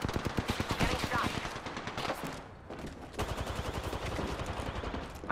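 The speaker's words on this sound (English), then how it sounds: "Getting shot." Rapid automatic gunfire from the video game Apex Legends, loud and close, with sustained bursts of evenly spaced shots, a brief pause midway, and then more fire, and a voice speaking briefly over the action.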